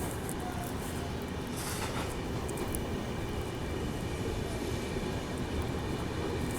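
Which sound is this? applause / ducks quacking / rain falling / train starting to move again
train starting to move again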